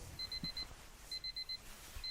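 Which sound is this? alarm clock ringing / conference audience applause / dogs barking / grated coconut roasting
alarm clock ringing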